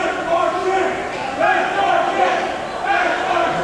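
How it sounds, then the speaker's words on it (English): An arena crowd chants in unison, a loud, dense wash of many voices swelling rhythmically in waves. "The crowd chanting, and that's our chant"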